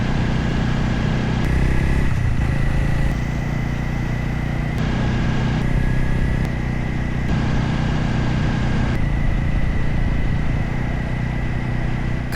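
Motorcycle engine recorded by an Insta360 camera while riding, a steady loud drone with a mid-range hum and faint wind rush, shifting in tone at several points as the recording cuts between segments.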